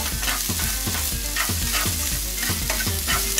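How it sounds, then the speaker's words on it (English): Vegetables sizzle steadily in hot oil, a loud constant hiss with rhythmic scraping as they are stirred around the pan, no talking. "You see those sizzling over there? I'm going to mix that in with the oil."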